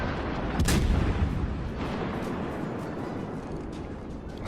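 Naval guns of the USS Indianapolis firing in World of Warships Legends, a heavy boom near the start followed by a dense, continuous rumble of battle noise.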